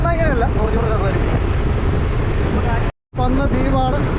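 A boat travels on the open sea toward an island, a loud rushing roar of wind and water with engine rumble, while people talk over it near the microphone.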